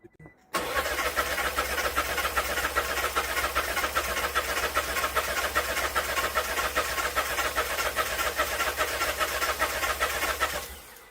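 A Vauxhall Grandland's 1.2 PureTech turbo petrol engine, which has a misfire, cranks with a rapid, even churning rhythm for about ten seconds without catching, then stops abruptly.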